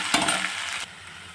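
Fresh ground ginger-garlic paste stirred in a hot oiled pan for a tomato masala curry, a close, bright hiss and scrape of the spoon that drops away abruptly near the end, with no voices.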